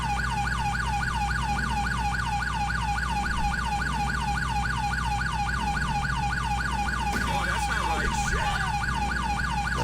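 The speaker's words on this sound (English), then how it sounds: "people are just ignoring my freaking sirens" An unmarked 2011 NYSP Chevrolet Tahoe police siren in GTA IV wails in a rapid repeating yelp pattern, loud and steady, with a brief burst of other traffic noise near the end.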